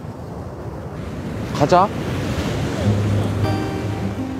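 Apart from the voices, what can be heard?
ocean waves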